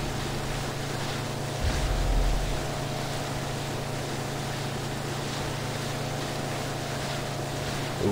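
In Far Cry 3, a motorboat's engine roars at full throttle, a loud, constant drone layered with rushing water and wind that holds steady throughout, with a brief low thump partway in.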